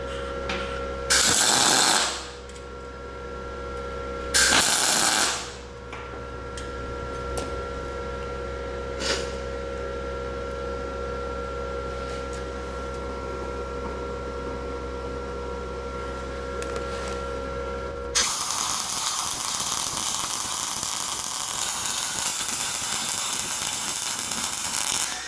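Two short crackling bursts come from a SIP Autoplus 130 welder doing flux core welding on 3mm steel outdoors, each about a second long and close. A steady electrical hum runs under them, followed by a broader hiss later.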